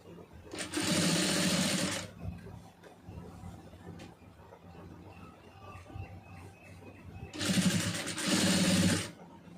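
Sewing machine stitching piping onto fabric runs in two loud, steady bursts of about a second and a half each, near the start and the end, with quieter handling and talk in between.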